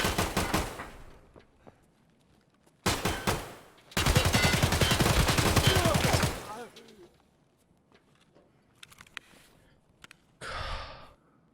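Gunfire in Escape From Tarkov comes in a short burst, then a longer rapid automatic volley, followed by quieter scattered shots and a sharp breath or gasp, with speech partly overlapping.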